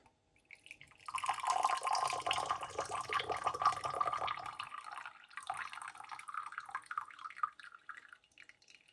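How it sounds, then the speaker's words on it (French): Tea rinse water poured from a teapot into a glass during mint tea preparation, a steady splashing trickle lasting several seconds, close and moderately loud, tapering off at the end. "je vais verser donc cette eau de mon thé dans le verre"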